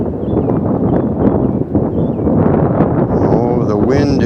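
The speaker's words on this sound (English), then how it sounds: "the wind is really strong now" Strong wind buffets the microphone outdoors during a first FPV drone flight, a dense, steady rushing roar that runs the whole time beneath a person talking.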